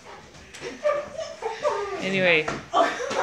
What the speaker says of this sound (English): that's puppies. Sorry for the background noise.